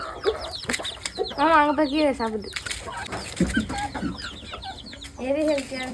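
Free-range country chickens cluck and chatter close by in bursts, with several rising calls layered over a farmyard backdrop.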